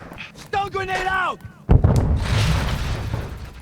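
A sentry turret fires in Warzone Mobile, heard as a burst of booming shots and rumble after a voice speaks excitedly over the game audio.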